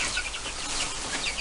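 Chickens cluck softly in a brief stretch of busy farmyard noise, several short calls overlapping at a moderate distance.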